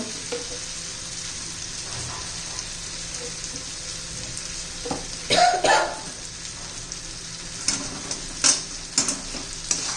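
A dry raw banana stir-fry with fresh coriander is stirred in a pan, a continuous soft sizzle with a few louder scraping strokes near the middle and end, no talking.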